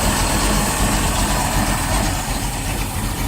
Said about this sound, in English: But you can see how quiet the engine is.